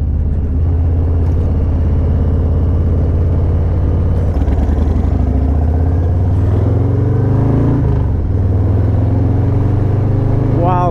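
A Harley-Davidson Low Rider ST motorcycle on the road: a steady, loud engine drone with rising and falling pitch as the rider accelerates and shifts, continuing throughout.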